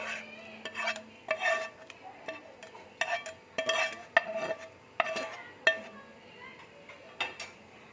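Fried onions are scraped from a pan into a bowl while cooking a daab chingri, coconut prawn curry: a run of uneven metal scrapes and clinks with a faint sizzle in between, close and moderately loud.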